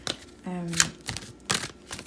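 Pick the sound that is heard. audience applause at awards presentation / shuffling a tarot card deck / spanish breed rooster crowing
shuffling a tarot card deck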